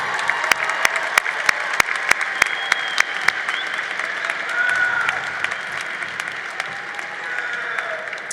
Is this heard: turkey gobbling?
no